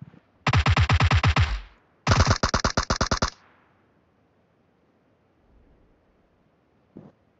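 Machine gun fire in the video game PUBG, two long, loud, close automatic bursts of rapid rounds separated by a short pause, then quiet with a faint distant pop.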